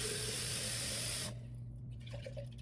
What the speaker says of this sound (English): So you got to rinse these twice, 2 times a day.